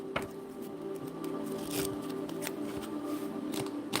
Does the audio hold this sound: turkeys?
no